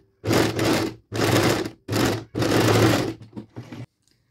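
Sewing machine stitching a French seam in fabric, running in four steady bursts of about half a second to a second each, with short pauses between, then a few faint clicks as it stops.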